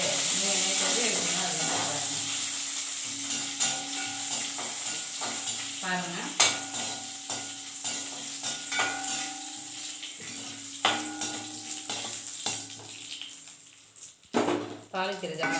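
Tempering spices splutter in hot oil for a broccoli gravy, a hissing sizzle with scattered pops and stirring scrapes against the pan, close by, while a voice talks over parts of it.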